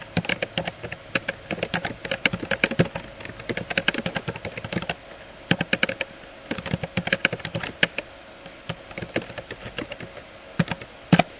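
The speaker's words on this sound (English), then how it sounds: "So I'll type a short introduction." Steady typing on a computer keyboard: rapid, uneven runs of close, clacky keystrokes with brief pauses between bursts, no voices.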